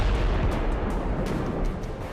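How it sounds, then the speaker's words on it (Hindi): Rumbling blast noise from a fighter-jet missile strike on Iranian military sites: a dense, continuous low roar with scattered crackling bursts, loud and sustained throughout with no distinct single boom. "लड़ाकू जेट जब मिसाइल दागता है तो ईरान के मिलिट्री ठिकानों को एक धमाके में धूल में मिला दे रहा है।"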